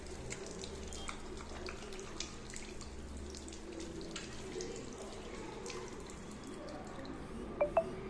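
Tap water runs steadily into a sink as hands are washed and rinsed during a contact lens clinical procedure, a low continuous splashing with small drips and a couple of brief clinks near the end.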